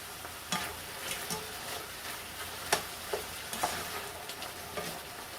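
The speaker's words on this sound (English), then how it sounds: "Now you're going to add a cup or a small diced onion. I'm using a yellow onion." Ground beef with diced yellow onion sizzles in a pan, a steady close hiss broken by scattered scrapes and taps of a utensil as the mixture is stirred, no voices.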